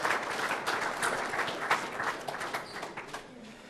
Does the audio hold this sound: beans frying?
no